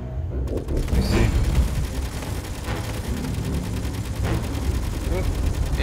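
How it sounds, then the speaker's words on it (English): Rapid bursts of gunfire and impacts in the space-combat game Space Engineers, dense and continuous during a raid on a base, with people talking over the shooting. "Incoming fire!"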